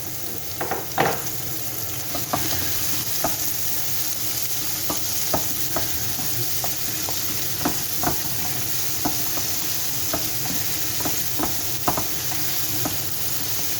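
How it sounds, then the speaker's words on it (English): About 200 grams of onions fry and brown in a pan, a steady close sizzle broken by frequent sharp scraping stirs and clinks of the utensil at irregular intervals. "We've got around 200 grams of onions there, maybe a little bit less. And we're just going to brown them off."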